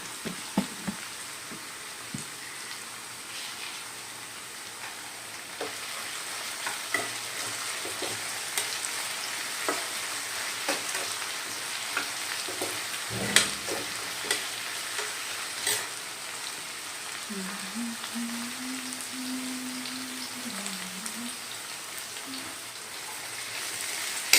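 Grated coconut roasting in oil in a hot pan for chicken curry: a soft, constant sizzle with occasional light stirring scrapes and clicks, and a faint low hum rising briefly near the end.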